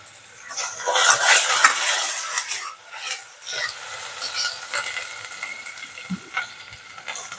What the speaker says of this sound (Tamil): அடுத்தது இஞ்சி பூண்டு பேஸ்ட் வந்து வதங்கிடுச்சு